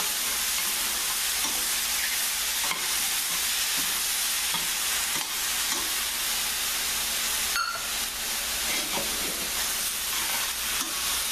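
Beef flanken with tomatoes cooking in a pan, a loud continuous sizzle and steamy hiss with occasional scraping stirs of a utensil; no talk.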